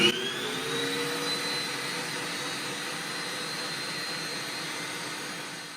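An AOBOSI MG102A electric home meat grinder runs while grinding meat, giving a steady, close motor whine with a high tone that holds evenly for several seconds, with no talking.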